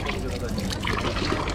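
Water splashing and running steadily from a public drinking fountain in Old Town Dubrovnik, Croatia, a close continuous gush with no pauses.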